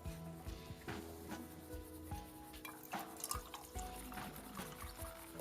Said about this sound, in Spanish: vierta agua en el recipiente superior.